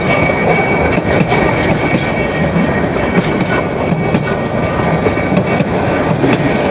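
A train runs on rails near Cox's Bazar, arriving from Ramu, with a loud, steady rumble and clatter of wheels that carries on throughout, and no voices.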